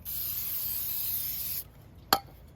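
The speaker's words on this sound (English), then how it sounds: "spray the cleaner on there real good" Chain cleaner sprays onto a Honda Rebel 500 motorcycle chain in one steady, loud hiss lasting over a second and a half, then stops, followed by a brief sharp click.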